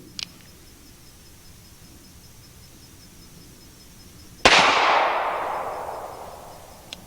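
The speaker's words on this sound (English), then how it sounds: "let's shoot another one" A single sharp gunshot fired at a target 100 feet away outdoors, a loud abrupt crack followed by a long fading reverberant decay, preceded by a faint brief click.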